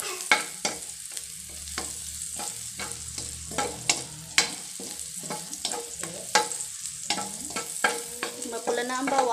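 Garlic sizzles and fries in a pan as part of cooking beef steak, with a steady hiss broken by repeated sharp scrapes and clanks of stirring, close and fairly loud, with no talk.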